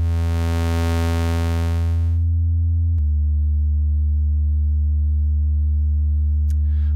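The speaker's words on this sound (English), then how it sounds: "So this goes from a sine wave to a square" Sputnik Modular oscillator putting out a steady harmonic tone, bright and buzzy for the first two seconds, then a darker, steadier sustained pitch after a shift at three seconds, continuous and loud with no voices.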